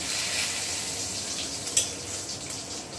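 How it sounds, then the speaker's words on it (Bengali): Whole cumin seeds and torn bay leaves hitting hot mustard oil in a kadai give a steady, close hiss of frying with a brief sharper crackle midway, no voices. "এবার ফোড়নে দিয়ে দিলাম 1/2 চামচ গোটা জিরে আর 2টো তেজপাতা ছিঁড়ে দিয়ে দিচ্ছি।"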